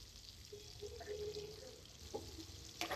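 Garlic fries in butter with a little oil in a pan, a faint soft sizzle with a few light stirring scrapes and clinks, quiet and close.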